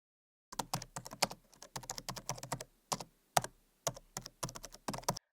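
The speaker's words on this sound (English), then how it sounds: "In the search box, type Super Oscillator." Typing on a computer keyboard to enter a search term, with quick runs of crisp key clicks in short bursts and brief pauses, close and quiet, no talking.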